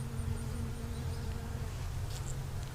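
Bees of an absconded colony hum inside a small hive box, a dense continuous buzz with several wingbeat tones, close and steady throughout.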